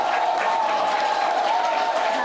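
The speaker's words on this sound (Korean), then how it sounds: "우리 회장님을 위해서 모두 한번 힘찬 박수를 내주셨으면 감사하겠습니다" A crowd applauds at a Korean talk concert hall event, with a dense, continuous wash of clapping and crowd noise and a faint tonal hum running underneath, brief and steady in level.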